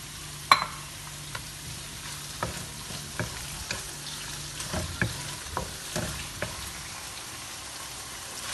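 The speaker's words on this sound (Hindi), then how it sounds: "सौते कर लेंगे चिकन और लहसुन अदरक के पेस्ट को" Chicken pieces sautéing with garlic and ginger paste in a hot pan for pasta, a steady sizzle broken by repeated scraping stirs of a spoon against the pan, with no talking.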